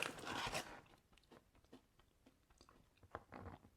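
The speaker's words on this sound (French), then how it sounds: "Ça croustille bien." Crisp crunching bites into a chocolate chip meringue snack, a loud burst at first followed by quieter intermittent chewing crunches, close up with no talking.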